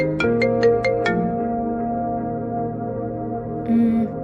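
A phone ringtone for an incoming call plays loud and close, opening with a few quick plucked notes and then a sustained electronic melody, with no talking.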